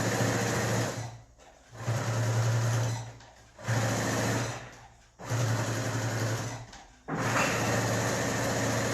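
A sewing machine stitching a reinforcement seam on a wallet runs in loud, close, continuous whirring bursts of about a second or more, separated by short pauses as the fabric is repositioned.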